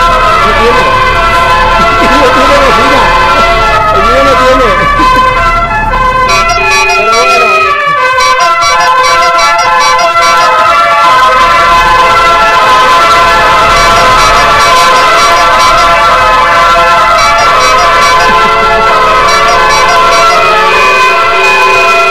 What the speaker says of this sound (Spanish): vamos a probar a ver cómo suena el bocinazo